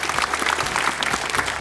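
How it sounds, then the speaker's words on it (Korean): A studio audience applauds a high school student in a red shirt who volunteered for a TV study-tips show, a brief, dense, even burst of clapping from many hands. "우리 빨간 옷 입은 학생 박수 한번 주세요."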